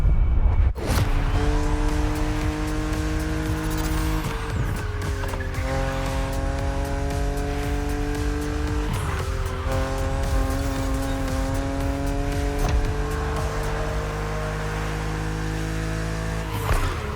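A BMW Z roadster races in The Crew Motorfest with engine drone rising and dropping through gear shifts and repeated sharp tire squeals, loud and continuous throughout.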